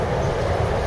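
A train rumbles steadily as it pulls into LA Union Station, a continuous loud rolling roar heard from on board with no talking.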